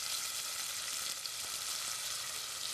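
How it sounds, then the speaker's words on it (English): Chopped onions and curry powder fry in oil in a pan, giving a steady, close, even sizzling hiss that holds at the same level throughout, with no talking. "you've got onions frying"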